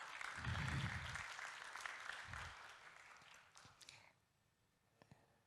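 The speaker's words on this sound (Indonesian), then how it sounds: "mungkin bisa tepuk tangan untuk kedua pembicara kita" Audience applause for two speakers at a graphic design talk in Jakarta: a steady wash of clapping from a seated crowd that thins into scattered claps and fades out, with light shuffling afterward.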